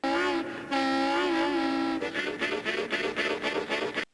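A harmonica imitates a train in a blues tune, opening with sustained whistle-like chords, then breaking into a rhythmic chugging pattern of breathy puffs, loud and close.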